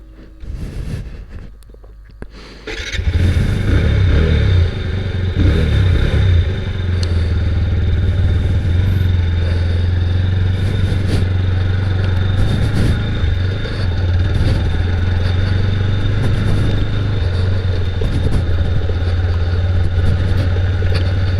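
TVS Apache RTR 160 2V motorcycle, 2024 model, running while ridden: a steady, loud engine drone with a low rumble that kicks in after a quiet start and holds constant throughout, with no talking.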